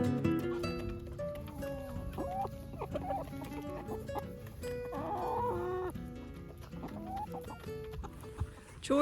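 Chickens clucking and murmuring close by, with scattered squawks and busy calls overlapping steadily throughout.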